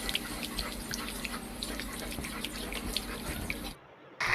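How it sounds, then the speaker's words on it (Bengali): Water is poured little by little into frying masala for a jackfruit and prawn curry, a continuous close trickle and splash that stops abruptly near the end, leaving a short silence before a brief return. "ভাজা ভাজা হয়ে আসলে আমরা অল্প অল্প করে পানি দিয়ে এটাকে কষিয়ে নিব।"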